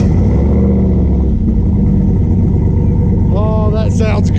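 A turbo Chevrolet C10 truck with a custom-fabricated wide-mouth exhaust tip rumbles loudly and steadily up close, then excited voices break in near the end.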